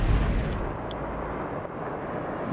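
An artillery gun fired for avalanche control at a mountain ski resort, heard as a deep, low rumbling boom with no distinct sharp onset, sustained throughout at moderate loudness.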